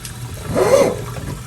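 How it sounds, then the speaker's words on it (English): Running water pours into a bowl to rinse frozen seafood from a packet, a brief gushing swell that rises and fades over about a second, close by and alone. "I'm gonna take some water and just rinse it off"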